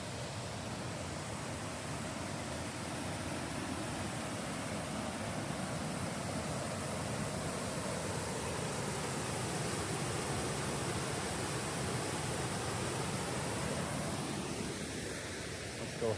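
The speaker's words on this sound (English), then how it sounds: "you might be able to hear the water in the background" Water from the Egan Chutes waterfall in a provincial park rushes as a steady, broadband roar, constant and fairly distant throughout, with no voices.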